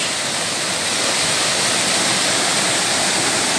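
A waterfall at a cachoeira in Duas Barras, Brazil, roars in a loud, dense, unbroken rush of falling water, heard up close with no voices.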